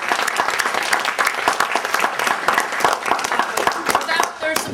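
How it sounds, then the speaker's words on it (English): A dinner crowd at the 2006 Illinois Disciples Foundation event gives a sustained round of applause for co-sponsoring organizations, with dense, steady clapping filling the room throughout. "So a round of applause for the co-sponsoring organizations."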